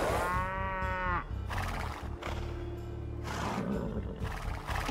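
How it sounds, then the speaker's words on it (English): Cattle in Age of Empires II, a couple of close, loud lowing moos, one drawn-out and tonal, another deeper, with no talk. "Ooh, cows!"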